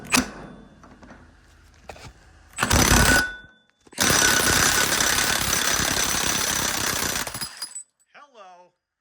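A 1/2-inch impact wrench with a 2-inch socket on a 3/4 adapter hammers at the front axle hub nut of a New Holland Boomer tractor, with a short loud burst and then a longer sustained rattling run, close and loud.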